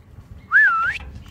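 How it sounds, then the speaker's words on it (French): A single sharp, high whistle from a marmot in the mountains rises and wavers for about half a second, clear and fairly close against a quiet background. "C'est pas des oiseaux apparemment, ce sont des marmottes."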